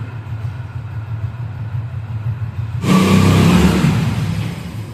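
A car engine on a cold day idles with a low rumble, then surges into a loud rev partway through before settling back slightly, close by.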